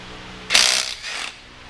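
Loud, close Azito impact wrench breaking loose a cylinder head bolt on a Ford Fairmont XC GXL, a harsh rattling burst followed by a second shorter one, with no talk.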